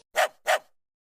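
A puppy in a kids' cartoon gives two quick, bright barks in a row, close and clear, followed by silence.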